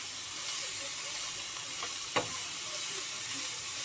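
Bamboo shoot is stir-fried with salt and turmeric over a low, even sizzle, broken by a few scraping stirs and one sharp clink of a utensil against the pan, with no voices.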